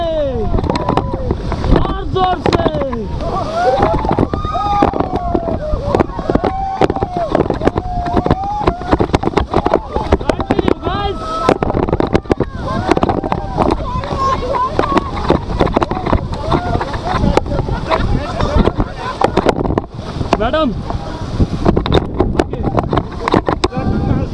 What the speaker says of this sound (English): the rapids that we faced while rafting through